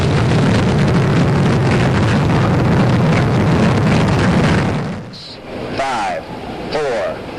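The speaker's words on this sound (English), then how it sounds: "5, 4, 3, 2, 1. Ignition." Roar of an Atlas-Agena rocket launching after ignition in 1966, a dense, loud, continuous rumble that suddenly drops away and gives way to thinner, fluctuating noise with faint tonal sweeps.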